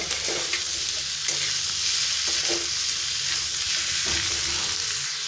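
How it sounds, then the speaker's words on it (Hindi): Pumpkin is stirred into golden brown onions frying in a pan, giving a loud, continuous sizzle with repeated scraping and clattering stir strokes throughout. "तब इसमें हम लौकी डाल देंगे यानी कद्दू। कद्दू को डालकर मिक्स कर देंगे।"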